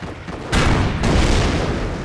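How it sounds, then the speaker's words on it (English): A Panzer tank cannon in Company of Heroes fires with a heavy boom, followed by a second blast and a long rumbling roar that stays loud to the end. "Notice the Panzer's slow rate of fire."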